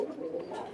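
Domestic pigeons, fancy breeds such as Teddy, Golden and Nildumba kept at a home loft, give a soft, low continuous cooing, fairly quiet and steady through the short moment, with no talk over it.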